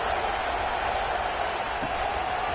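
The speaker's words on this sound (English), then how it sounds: "this crowd is buzzing after that last score" A football crowd buzzes in a stadium just before kickoff, a steady, dense roar of many voices blending into one continuous wash with no single voice standing out.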